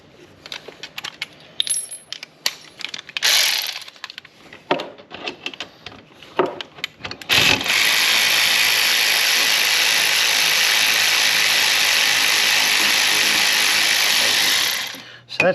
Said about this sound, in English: I'm now going to take the two 10mm bolts out.